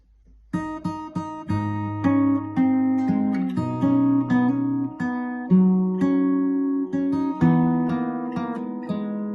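Fingerstyle guitar plays a steady, melodic verse of a song with plucked notes ringing together, close and clear, with no voices.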